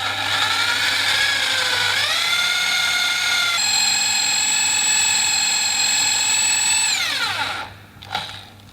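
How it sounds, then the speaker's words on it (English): A power drill boring out a broken stud on a bicycle frame, a loud steady whine that shifts pitch as the speed changes, then winds down and stops near the end. "I'm going to drill that in a bit further"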